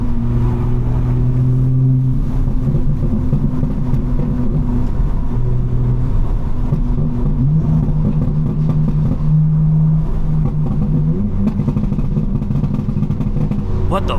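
A BMW M4 set to maximum burble revs steadily and loudly throughout, its exhaust rumbling with crackling pops and burbles layered over the engine drone.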